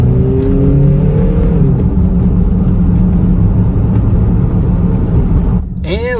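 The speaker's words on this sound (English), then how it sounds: "I'm just gonna take it for a quick little spin, make sure it drives and runs good." A 1999 Toyota Camry with a 2.2L engine drives along, its engine and road noise a steady close hum that rises slightly as it accelerates, with a voice briefly heard near the start.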